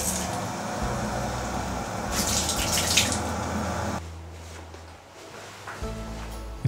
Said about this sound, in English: Maybe I'll fill up the bathtub,